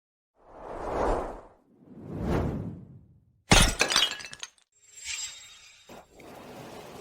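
A cup is hurled and smashed in an indoor villa: two whooshes precede a loud, sharp shattering crash of breaking ceramic, followed by scattering clinks and rattling fragments.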